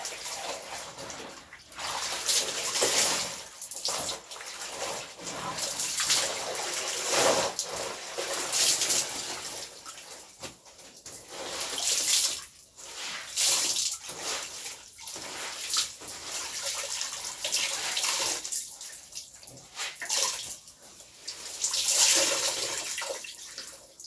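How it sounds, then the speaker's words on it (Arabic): Final rinse water for hand-washed white laundry gushes and splashes in a bathroom, a continuous, fairly loud pouring and sloshing with surging bursts, no voices present. "دي مية الشطف النهائية يا جماعة الأخيرة."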